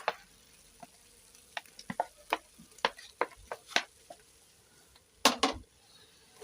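Onions cooking in a pan for traditional mukimo give sparse, sharp crackles and pops over near silence, with isolated snaps scattered irregularly and a brief louder cluster toward the end.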